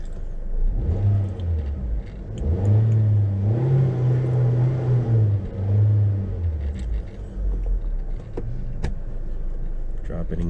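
A Nissan car engine idles in neutral after being restarted, a steady low rumble that swells and holds for several seconds, then settles back to a quieter, even idle.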